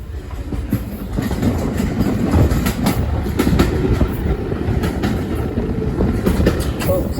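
A heritage train on the Great Central Railway rumbles steadily along, heard from the rear carriage with continuous wheel clatter and rail noise throughout, loud and close with no talk.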